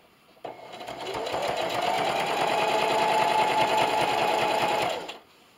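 A sewing machine stitching a quilt-as-you-go table runner starts up, whirs at a steady fast pace for about four seconds, then stops. The sound is close and clear, with no talking.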